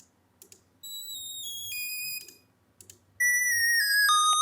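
Bright synth lead built from a sine wave with added harmonics and no unison, playing short descending gliding notes in a sparse, quiet melodic phrase with faint clicks between notes.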